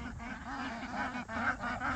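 Homestead ducks quacking and honking close by in a continuous, overlapping chorus with short repeated calls.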